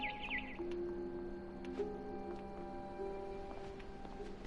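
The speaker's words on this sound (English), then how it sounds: "Then I heard chirping outside my window." A barn swallow chirps in the video game What Remains of Edith Finch, a few short high tweets early on over a quiet, steady ambient bed with faint tonal hum.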